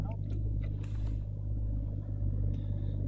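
Jeep Cherokee engine idling steadily just after a cold start, a continuous low rumble with a constant hum and no talking.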